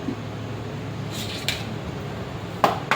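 A lid goes onto a cooking pot of beef paya nihari curry, landing as a single short metallic clink near the end, over a steady low hum of room or fan noise.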